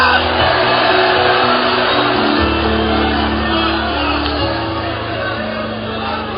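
Church congregation shouting glory together after a pastor's call during a Pentecostal revival sermon, a loud sustained crowd roar of overlapping voices with a low drone beneath, steady throughout.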